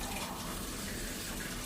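Water is poured into a pan of frying curry, a soft, steady gush of liquid lasting under two seconds, faint and close, with no talk.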